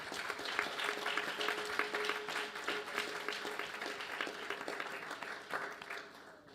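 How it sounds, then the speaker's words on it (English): An audience at a Sai Centre Sunday birthday programme claps for the actors after a play, a moderately distant wash of many hands with some individual claps standing out, tapering slightly toward the end. "So a big round of applause to the actors."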